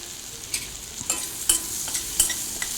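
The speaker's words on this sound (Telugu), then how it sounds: "ఇవి వేగిన తర్వాత ఆనియన్స్ వేసుకుంటున్నాను నేను" Onions frying in a pan with ginger and garlic for vegetable biryani: a steady bright sizzle broken by regular scraping strokes of a spatula roughly every half second, close and fairly loud.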